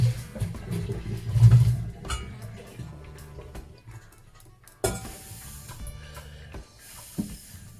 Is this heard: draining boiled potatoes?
yes